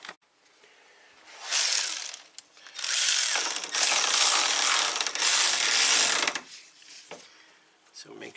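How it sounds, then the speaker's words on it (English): A ratchet wrench clicks steadily while bolting wiring eyelets onto a stud on a 2015 Jeep Compass: a short burst, then a long run of rapid close pawl clicks, with quieter handling noises around it. "Just bolt it right up."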